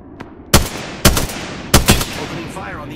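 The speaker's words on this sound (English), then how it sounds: "Opening fire on the enemy." Gunfire in the game Apex Legends: four loud, sharp bursts of shots, each a short double or triple crack, separated by brief pauses over a quiet background.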